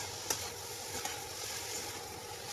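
Val green bean pods with a little salt sautéing in a pan, a steady soft sizzle running throughout with a couple of faint stirring scrapes, no voices.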